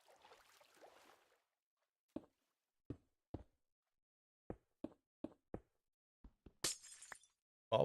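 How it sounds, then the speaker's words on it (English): Glass blocks breaking in the Minecraft video game during a hardcore survival session: a series of short, sharp cracking hits spaced over several seconds, ending in a brighter shattering burst, with no talking. "the glass breaking sound is jarring"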